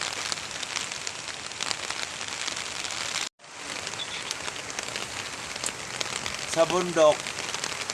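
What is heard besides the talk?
rain during a typhoon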